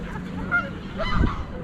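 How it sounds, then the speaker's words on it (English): Canada and Egyptian geese honk in a few short, nasal calls over a steady rush of background noise, fairly close and moderately loud, beside a flooded river in autumn. "We've got Canada geese, we've got Egyptian geese"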